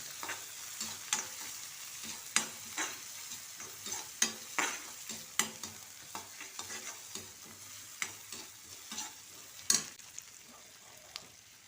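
Curry leaves fry in hot oil for a bottle gourd prawn gravy, crackling and popping in repeated sharp bursts over a low steady sizzle, close up and without talk.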